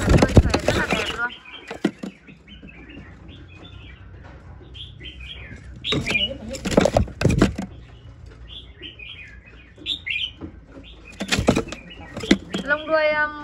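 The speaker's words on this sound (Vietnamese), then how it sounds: "Em chim bản đuôi xòe này" A caged songbird with a fanned tail gives short, bright chirps and trills in scattered bursts, with soft wing flutters between calls, heard close and moderately loud.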